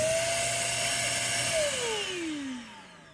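SIN SHINE electric compressed air duster running close and loud, a steady high whining motor with rushing air that holds, then its pitch sweeps downward as it spins down.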